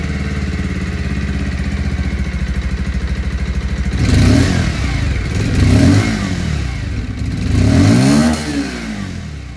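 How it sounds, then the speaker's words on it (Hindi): Bajaj Pulsar 150 Twin Disc motorcycle exhaust, idling with a steady rapid putter, then revved three times in swelling bursts that fall back to idle, close and loud. "और अब मैं आप लोगों को यहाँ पर पल्सर 150 ट्विन डिस्क की जो आवाज़ है वो सुना दूँ।"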